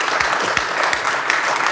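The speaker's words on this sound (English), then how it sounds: "Quick round of applause for our panel." A panel discussion audience gives a quick round of applause, dense steady clapping from many hands filling the room without pause.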